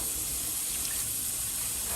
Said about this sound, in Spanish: Primero la voy a agregar y ya después le voy a agregar un poquito más de agua.